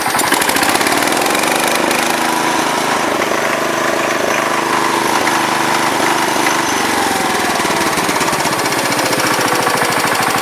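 A Ford LGT 125 garden tractor engine runs at a low idle, loud and close, with a steady rapid chugging and a mechanical rattle throughout.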